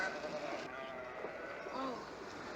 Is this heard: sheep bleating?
yes